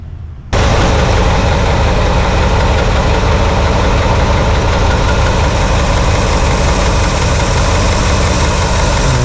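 A warmed-up 1968 Pontiac LeMans engine idles with a loud, steady, close rumble that begins abruptly and continues evenly with a slight rhythmic lope.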